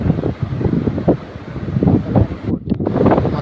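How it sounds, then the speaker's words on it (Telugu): Strong wind buffeting the microphone at a hilltop viewpoint of Ballari Fort among granite hills, a continuous low roaring rumble with gusty surges throughout, close and loud. "చాలా గాలి వేస్తుంది, అలాగే చినుకులు కూడా వస్తాయి చిన్న చిన్నవి"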